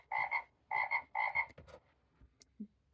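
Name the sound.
frogs croaking from a farm sound book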